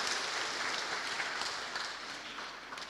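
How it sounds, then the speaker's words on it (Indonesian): Congregation applause at a Sunday church service in Bogor Barat, a steady broad wash of many hands clapping that fades slightly toward the end, heard alone without talk. "Ya, mari berikan aplaus."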